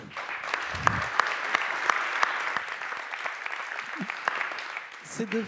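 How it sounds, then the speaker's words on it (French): Audience applause at an awards ceremony for a team, a dense crowd clapping at moderate loudness with a few sharper claps standing out, brief voices murmuring near the start and end. "Vous pouvez les applaudir, ils sont au fond là-bas."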